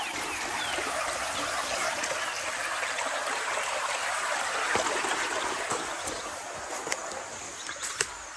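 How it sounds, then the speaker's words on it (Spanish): A clean farm stream in winter flows with a steady, close broadband rush and gurgle, with occasional small splashes and trickles but no talking. "Es un caño de agua limpia."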